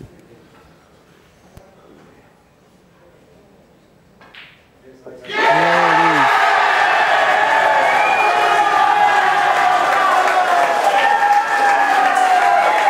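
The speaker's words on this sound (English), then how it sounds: "The crowd have absolutely gone ballistic." A crowd at the women's teams final of the AEBF Nationals 2017 bursts into loud, sustained cheering and applause after a quiet stretch, with whoops and shouts carrying through the roar.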